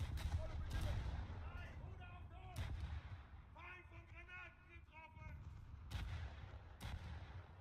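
Battleship guns fire in War Thunder naval combat: four heavy, booming shots spaced seconds apart, each a sharp blast with a rumbling tail, while someone talks between them.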